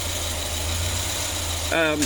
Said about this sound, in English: I'm going to give this some gas, and then I'm going to just let go of the throttle, and we'll see how well it bounces back to maintaining its RPM speed